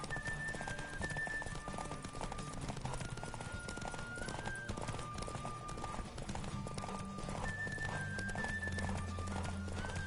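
Hoofbeats of a horse galloping in The Witcher 3: Wild Hunt, a steady rapid clip-clop carried over continuous game music with sustained tones, the rhythm running the whole time without voices.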